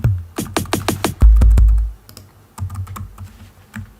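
Computer keyboard keys clicking in quick bursts, used for musical typing in electronic trance music production, close and fairly loud with a sharp cluster of strokes followed by scattered lighter taps, no voices.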